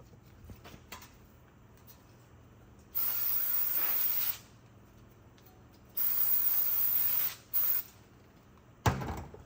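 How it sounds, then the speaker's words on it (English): Aerosol spray can fired in a workshop during a 4L60E transmission shift kit and servo install, giving three hissing bursts of about a second or more each, the last one short, followed by a sharp knock, with no talking. "I always forget to tear off a cloth before I spray it."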